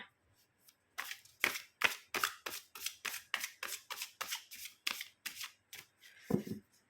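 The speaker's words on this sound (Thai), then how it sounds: "จะสับไพ่นะ ตามกำลังวันเลยนะคะสิบห้าครั้ง" Tarot cards being shuffled repeatedly by hand, a run of sharp riffling bursts in a steady rhythm, close and fairly loud, with a brief voice at the very end.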